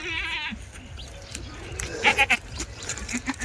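A Kathiawadi goat bleats three times in quick succession amid a noisy outdoor background, with a brief higher bleat at the start.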